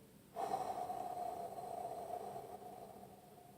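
One long, deep exhale of breath lets all the air out in a close, soft, breathy rush that starts suddenly and fades slowly over about three seconds during a breathing exercise done on all fours.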